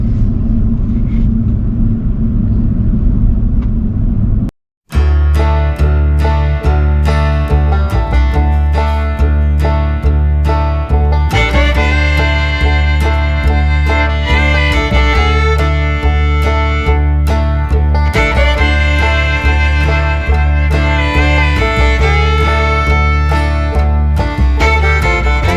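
A car climbs the road to the Seven Bridges Trail near Colorado Springs, its engine and road noise a steady rumble under loud music that runs throughout, with a brief dropout near the start.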